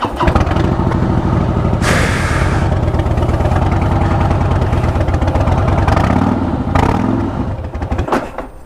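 Harley-Davidson motorcycle engine roaring during a burnout, loud and close, holding a sustained high rev with throttle swells and a brief blip near the end.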